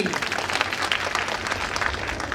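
Audience applause at a BJP women's political rally, a dense continuous patter of clapping held steady for a couple of seconds with faint voices mixed in.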